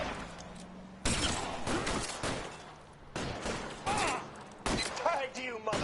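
Gunfire in L.A. Noire rattles in several loud bursts of shots, mixed with other game noise and voices talking underneath.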